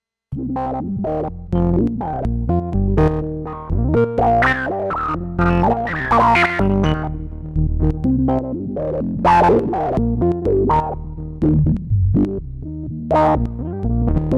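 A buzzy synthesizer line through a Blue Lantern Lucky 7 24dB SH-01 low-pass filter plays a busy sequence of notes, loud and continuous, with a gritty, filtered tone.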